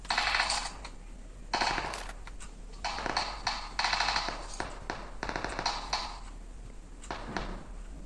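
Mechanical clacks and metallic clicks of a weapon reloading in the mobile game PUBG Mobile, several quick crisp bursts in a row, loud and close with no voices.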